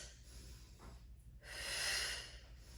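Heavy, forceful breathing from someone straining through a glutes and abs workout: a soft breath, then a long, loud, hissing exhale that swells and fades near the mic.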